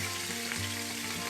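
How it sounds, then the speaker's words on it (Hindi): Green chilies sizzling in hot oil in a pan for an Aloo Phali dish, with a steady close frying hiss and light stirring and no talk. "थोड़ा सा स्टर करेंगे इसे ताकि हरी मिर्चें फ्राई हो जाएं।"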